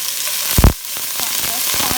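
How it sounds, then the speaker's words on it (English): Vegetables sauteing in a pot with a steady, close sizzle throughout, a louder burst near the start as they are stirred or tossed, then a continuous crackling hiss. "So I'm just sauteing these veggies."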